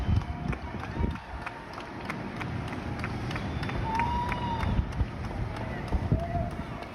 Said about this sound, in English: They are clapping and cheering for healthcare workers.